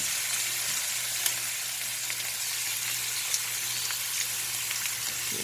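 Short ribs sear in a hot pan with butter, giving a steady, close crackling sizzle with scattered sharper pops and no talking.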